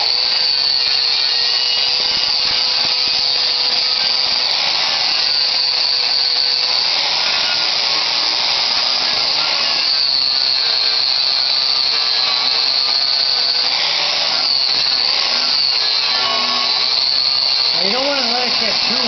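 A power grinder grinds down welds from body rust repair on a 1986 Jeep, giving a loud, steady high-pitched whine that runs without a break. The pitch dips briefly near the end as the disc loads up against the metal.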